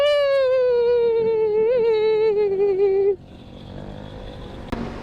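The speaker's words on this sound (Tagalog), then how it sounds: "Okay din naman yung naka aftermarket na pipe Basta ganyan lang kalakas Hindi yung tunog lata" A Honda PCX 160 scooter fitted with an aftermarket JBT exhaust pipe revs with a loud, steady droning tone for about three seconds, then cuts off and leaves quieter rumbling background noise.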